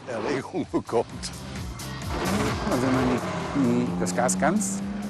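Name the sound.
vintage supercharged car engine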